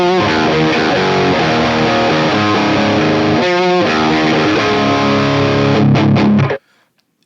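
Heavily distorted electric guitar chords from a Line 6 Helix amp modeler ring out loud and sustained, with a brief stutter midway, then cut off abruptly into silence.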